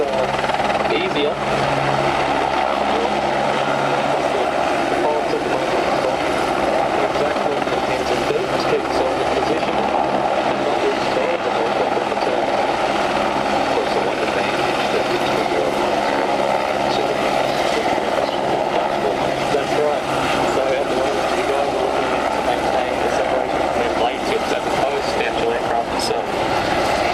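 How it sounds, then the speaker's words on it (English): A manoeuvrable military helicopter at an air force centenary air display at Point Cook, Australia, roars continuously and loudly throughout, its rotor and engine noise steady while a commentator talks over it. "it's quite a manoeuvrable helicopter"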